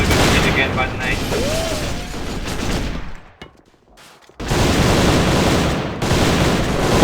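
Grenades and gunfire in a competitive AVA esports match, loud dense bursts of rapid shots and blasts with a short lull in the middle before firing resumes, voices mixed in.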